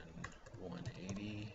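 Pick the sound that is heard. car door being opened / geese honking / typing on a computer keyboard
typing on a computer keyboard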